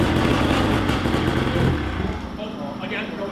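A Yamaha VMAX 700 triple snowmobile engine, a greasy barn find primed with starter fluid down the cylinder, runs loud and rough with dense low rumble, easing off partway through while people talk over it.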